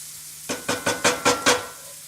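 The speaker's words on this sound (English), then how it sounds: "this is going to take, 4 or 5 minutes for these mushrooms to brown, release their liquids, and be ready for the next step" Mushrooms stirred and sizzling in a cast iron pan during keto Steak Diane prep: six evenly spaced scraping-sizzle bursts, close and fairly loud, with no talking.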